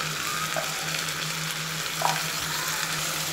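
Onion, ginger and garlic paste sizzles steadily in hot oil for a prawn malai curry, a constant broadband frying hiss with a couple of brief stirring scrapes, with no voices.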